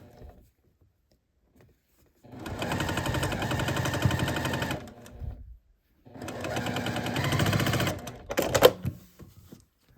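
A sewing machine stitches a quilt block in two steady runs of a few seconds each, close and clear, with short pauses between and a brief clack near the end.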